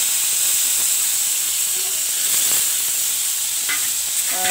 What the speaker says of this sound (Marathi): या तेलामध्ये आपण एक टोमॅटो भाजून घेऊया